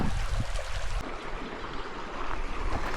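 Shallow creek water runs steadily over rocks along Murray Canyon near Palm Springs, a dense, close rushing wash that continues alone throughout.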